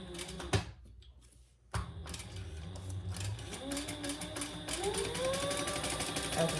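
Sewing machine stitching fabric panels of a wristlet together, starting after a few clicks and then running as a rapid, even mechanical whirr with rising motor tone, close up and without talk.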